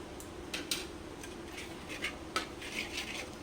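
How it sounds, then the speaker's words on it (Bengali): A metal spoon scrapes and clanks against a pan while spiced masala is stirred and fried in oil for a vegetarian potato curry; irregular clinks and scrapes sound close over a low background hiss, with no talking. "যতক্ষণ তেল না ছেড়ে আসবে বন্ধুরা ততক্ষণ এই মশলাটাকে কষিয়ে নেব"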